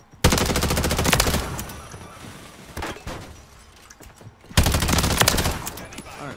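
Call of Duty gunfire in loud automatic bursts, one long volley opening and another near the end with a shorter burst between, close and dense over game noise.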